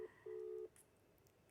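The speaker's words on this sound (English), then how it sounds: "This is still ringing." A telephone ringback tone sounds on an unanswered call: one short beep, a pause, then a longer steady tone. It is faint and thin, and the line goes quiet afterward.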